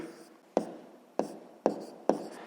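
Writing out a sixth-grade math solution by hand: four crisp, close pen strokes scratch across paper at an even pace, with quiet pauses between them and no talk.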